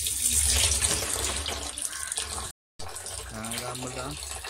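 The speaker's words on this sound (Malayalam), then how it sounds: "റമ്മിലേക്ക് വെള്ളം തുറന്ന് വെച്ചിരിക്കും." Water runs from a hose into a drum for a summer bird-watering setup, a steady broadband gush with a brief dropout midway and faint voices underneath.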